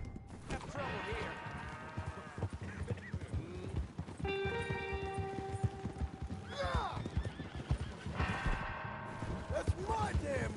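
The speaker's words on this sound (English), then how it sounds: "You can use that horse." A horse whinnies loudly in the middle of the scene, with shorter neighs later on. Hooves clip-clop in an irregular, continuous patter underneath throughout.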